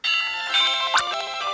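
A chiming school bell rings out in Pokemon Ranger, a bright melodic ding-dong pattern that sustains throughout, with a brief sweeping tone partway through.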